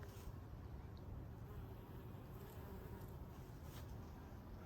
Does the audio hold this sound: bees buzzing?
yes